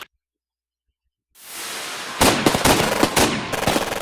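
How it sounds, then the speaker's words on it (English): Rapid bursts of continuous gunfire from several guns in the visual novel I/O break in loud and close after about a second of silence, then crackle on as dense, sharp volleys. "Bullets come continuously flying out of the muzzles of the guns in He's hands."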